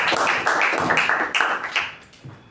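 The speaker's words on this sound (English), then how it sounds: "Let's give him a good round of applause" A round of applause from a meeting audience, dense steady clapping that swells and fades over a couple of seconds, with no voices over it.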